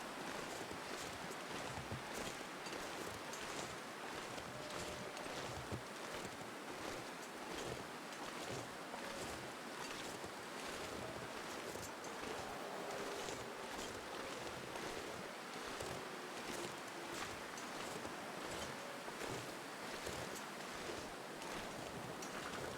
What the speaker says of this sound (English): I know the wind is about to die down any minute now